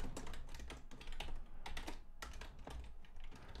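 Rapid keystrokes clatter on a computer keyboard as programming code is typed, a close, continuous run of quick clicks with no speech over it.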